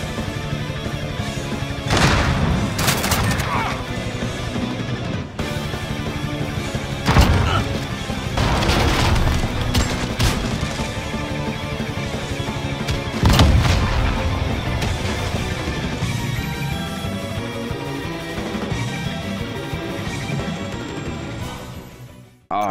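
Shotgun fire in a Modern Warfare video game, with several heavy booming shots spaced across a busy, layered game soundtrack, loud impacts standing out at intervals while a voice is heard faintly.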